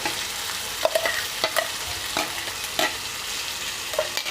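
Tomato-onion paste frying in a pan over a medium flame, a steady close sizzle broken by several sharp scraping stirs of a spoon against the pan.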